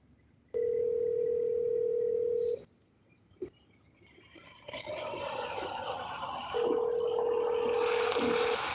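A telephone call back to someone starts with a steady tone of about two seconds, followed by a short click. Line noise then builds, and a second tone returns near the end. No one speaks.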